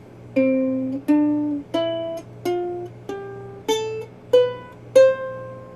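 A plucked ukulele climbs a major scale, do re mi fa sol la si do, eight separate notes rising one after another at a steady pace, each ringing briefly before the next.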